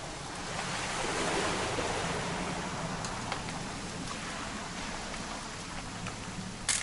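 Steady rain in the game What Remains of Edith Finch, a broad continuous wash of drops and patter at even loudness throughout, with no voices.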